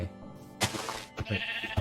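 Sheep bleats from Minecraft, several short nasal calls in quick succession, fairly close and clear with nothing else going on.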